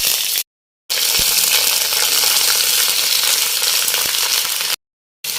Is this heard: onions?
yes